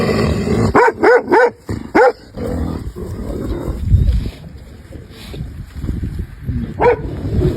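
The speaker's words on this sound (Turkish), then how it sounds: "Daha hangisini havlayacağını şaşırdı." A dog barks in a quick burst of four sharp barks close by, then a lone bark a few seconds later, over a rumbling outdoor background noise.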